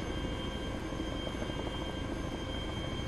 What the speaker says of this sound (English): Just gonna fly this helicopter over here, then.